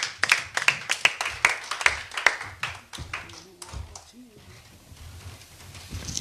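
A church congregation claps in a steady rhythm to acclaim the Lord, sharp and fairly close, with voices underneath; the clapping thins out halfway, leaving murmured talk and room noise.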